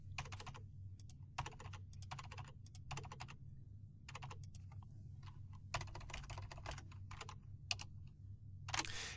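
Quick bursts of computer keyboard typing while home information is entered into a web form, crisp close key clicks in rapid clusters separated by brief pauses.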